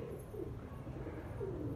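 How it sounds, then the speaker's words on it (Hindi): Pigeons cooing softly in a loft in Lucknow, low murmuring coos repeating over a steady background hum, with no talking. "वो वाला कबूतर जा रहा है"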